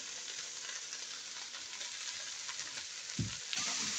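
Steady sizzling and crackling of spicy rice frying in a hot pot, with a brief clunk near the end.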